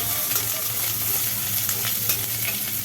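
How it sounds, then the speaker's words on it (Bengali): Sliced onions frying in hot oil in an iron kadai for dal with bottle gourd, with a loud, continuous close sizzle and light stirring and no talk. "নতুন করে আবার কড়াই তেল পড়ল তেলের ওপরে পড়ল পেঁয়াজ"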